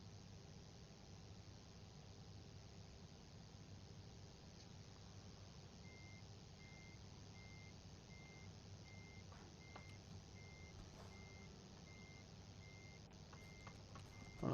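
Steady, evenly spaced reversing beeps from a truck in a multiplayer truck-driving video game sit over a constant low engine drone, repeating rhythmically through the second half.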